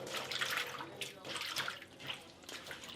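Pieces of elephant apple are washed by hand in water, giving close, quiet sloshing and dripping splashes in uneven pulses over a few seconds, with no talk.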